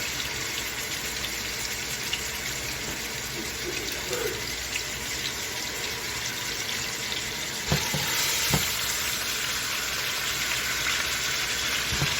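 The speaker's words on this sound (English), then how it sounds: "Go ahead and put that oxtail down there in that oil." Oxtail frying in hot oil in a pot, a steady close hiss of sizzling running throughout with a couple of brief sharper spits and crackles near the end, no voices.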